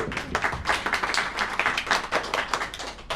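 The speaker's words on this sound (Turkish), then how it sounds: "Alkışlarla alalım hocamı." An audience claps to welcome an instructor at a children's creative drama workshop, with brisk, lively, close applause sustained throughout.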